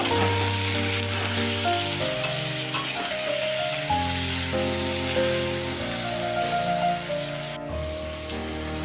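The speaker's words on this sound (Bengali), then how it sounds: "দিয়ে দিচ্ছি পরিমাণ মতো নুন আর হলুদ সব কিছু ভালোভাবে মিশিয়ে নেব" Salt and turmeric stirred into frying fish curry with potatoes and vegetable stems in a pan. A steady, rain-like sizzle continues close by under sustained ringing tones, with no speech.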